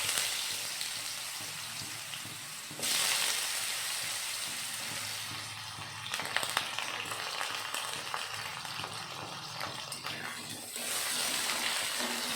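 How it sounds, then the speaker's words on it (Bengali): Potatoes frying in hot oil with panch phoron and dried chilli give off a soft, continuous sizzling hiss, fairly quiet and steady with a few brief changes in intensity, with no talking. "আমার তেলটা গরম হয়ে গেছে, আমি এর মধ্যে পাঁচফোড়ন আর শুকনো লঙ্কাটা দিয়ে দিলাম।"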